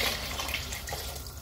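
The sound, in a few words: 700 ml of water poured into lamb and spinach curry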